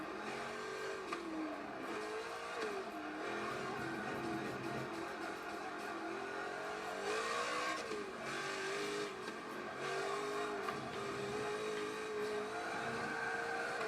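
A tuned Subaru Legacy race car's engine in Forza Motorsport 7 drones continuously, its pitch rising and dipping as the throttle is worked through corners, a steady buzzing whine with no voices.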